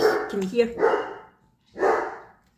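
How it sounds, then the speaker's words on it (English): Dogs bark a few times in the background at a crafter's table during diamond painting, with sharp yips early and another burst near the end, partly mixed with a woman's speech. "Sorry about the dogs barking."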